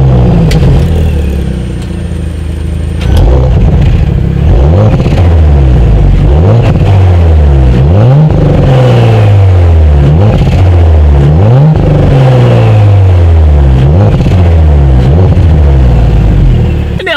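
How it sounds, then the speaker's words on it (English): A 2018 Audi S4 with quad exhaust outlets revving hard, loud, close deep engine roars rising and falling in repeated blips over a rumbling idle, with no talking. "Here is that exhaust clip."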